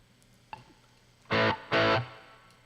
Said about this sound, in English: so the reverb that I have here right now is a spring reverb